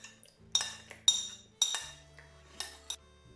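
Light clinks of a utensil against a bowl while melted butter is mixed into quatre-quarts cake batter, several sharp taps spaced out over a quiet background with a faint low hum.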